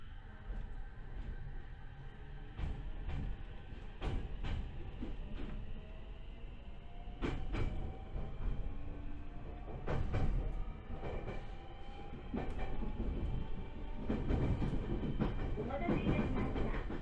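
A Joshin Electric Railway 7000 series electric train runs between Shimonita and Joshu-Ichinomiya, heard from inside, with repeated clickety-clack of wheels over rail joints and a steady rising motor whine throughout.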